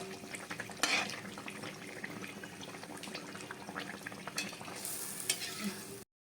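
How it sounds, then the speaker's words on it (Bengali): Palm-fruit malpua pitha frying in hot oil, a continuous bubbling sizzle with occasional scraping and clinks of a spatula, steady and close throughout. "এইভাবে সবকটা আমি ভেজে নেব।"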